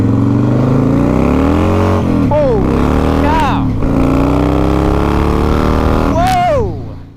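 A Harley Davidson Fatboy motorcycle engine rumbles close and loud, with a few sharp revs rising and falling over a deep idle, partly under a voice.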